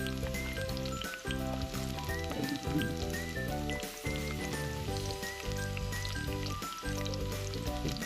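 Onions sizzle in a frying pan while cooking chicken tinola, a continuous crackling fry heard close over a background of music-like tonal sounds, with no clear talk.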